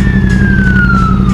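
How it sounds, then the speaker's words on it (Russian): Ambulance siren on a city road in Odesa, a loud steady wail sweeping slowly downward over rumbling traffic and engine noise, close by. "справа скорая едет, слышно и видно все"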